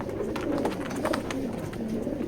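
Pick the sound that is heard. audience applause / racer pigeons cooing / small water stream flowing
racer pigeons cooing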